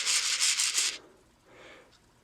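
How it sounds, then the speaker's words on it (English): Lee primer collator being shaken to align primers, several quick loud rattling rasps of small metal primers in a plastic tray, then a softer single shuffle after a pause. "What this collator does is when you shake it, it's going to fetch up these primers and set them all so they're in the same direction"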